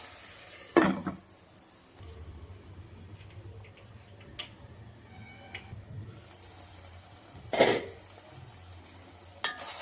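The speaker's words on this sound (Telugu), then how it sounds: "ఇప్పుడు 2 కలబెట్టేసి మూసేస్తే మనం టమాటాలు మగ్గిపోతాయి" A spoon clinks and scrapes in a pan of mint and tomato chutney, with a few sharp knocks against the rim and a lid set down, over a low steady hum; sparse, close and fairly quiet.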